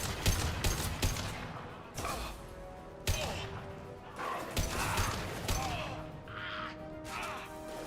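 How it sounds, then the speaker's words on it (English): Bursts of rapid gunfire crack sharply in Mass Effect 2, with fusillades and single shots repeating over a busy mechanical background. "I hear gunfire."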